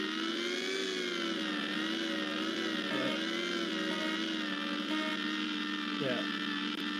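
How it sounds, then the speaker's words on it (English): An electric car revving in a video game: a steady, wavering electric whir with a faint hum beneath it, holding at a constant level with small pitch dips. "Sounds like a electric car."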